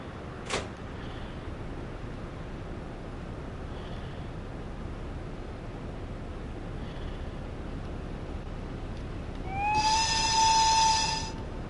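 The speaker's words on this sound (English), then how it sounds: "release the locomotive brake." Locomotive brake release in Train Sim World 6: a soft steady hiss of air runs under quiet cab ambience, with a brief click early on, then a louder rising whistle-like hiss swells near the end and fades.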